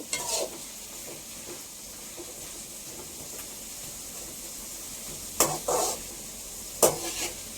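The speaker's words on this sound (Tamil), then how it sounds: "வெங்காயம் நல்லா வதங்கிடுச்சு" Onions sauté in a pan with a steady, even sizzle, broken by a few sharp spoon scrapes and clinks of stirring toward the end.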